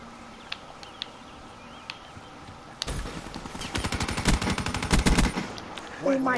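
Gunfire in Call of Duty Black Ops 3 gun game mode: a few sparse clicks, then sustained rapid automatic bursts, fairly loud and continuous, with no clear talking over it.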